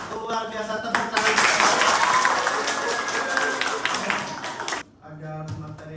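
An audience at a university teaching session claps hands in a dense burst of applause that lasts several seconds, then stops abruptly, with voices audible before and after.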